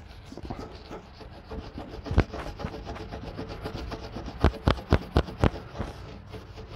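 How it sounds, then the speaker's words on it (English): Metal screws on the door of a Frymaster deep fryer being scrubbed clean, a steady close-up rubbing and rasping with a quick run of sharp scraping strokes near the end; nobody speaks. "I'm just cleaning the screws to be able to take them off."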